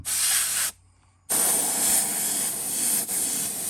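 A PS 290 airbrush with a 0.5 nozzle sprays paint onto a swimbait fishing lure with a loud, close hiss, pausing briefly for about half a second before resuming steadily.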